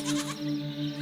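A goat bleats once in a long, wavering, nasal cry, close and clear, with no talking.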